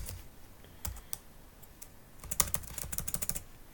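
Typing on a computer keyboard, close up: a few scattered keystrokes, then a quick burst of rapid clicking, with no voices.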